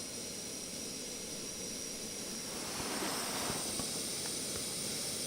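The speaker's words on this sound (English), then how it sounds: "Boiling water." Water boils on a stove inside a snow cave with a steady, close hiss and rush. Faint bubbling pops come through partway along.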